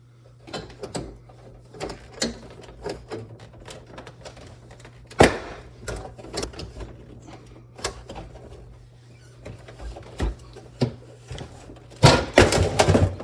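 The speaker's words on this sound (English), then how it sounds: "It will kind of pop out, so don't be, and kind of make a loud noise, and don't be frightened by that." A plastic clip is worked loose inside a Whirlpool Kenmore refrigerator during an ice maker fill valve replacement, giving a run of scattered clicks and knocks, then a sharp snap near the end.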